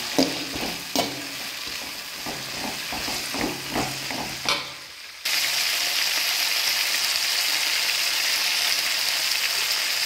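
Garlic, dried mango and dried brinjal fry and get stirred in a pan, giving a close crackling sizzle with rhythmic scraping stirs that stop halfway, leaving only a steady hiss of frying oil.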